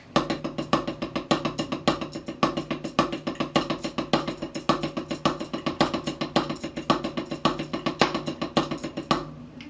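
A drum practice pad or snare plays a steady, fast triple paradiddle rudiment with an accent on the fifth single stroke, evenly repeating accented groups for about nine seconds before stopping.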